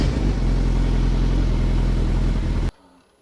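Suzuki Hayabusa motorcycle running after a clutch replacement, a loud steady engine drone with wind rush that cuts off abruptly near the end, leaving near silence.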